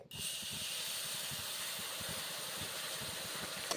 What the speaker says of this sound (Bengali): দেখুন গুড়টা ফুটে উঠেছে